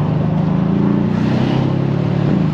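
A Mercedes-AMG C63 S Coupé with a V8 biturbo engine roars steadily, a deep, dense engine drone heard close and loud from the moving car, without much change in pitch.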